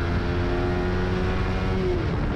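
A Suzuki GSX-R 150 sport motorcycle accelerates to overtake on a road, its engine note rising steadily and loudly under heavy wind rush before easing off at the end.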